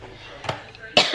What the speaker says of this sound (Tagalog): At ito yung ubo ko, hindi nawawala.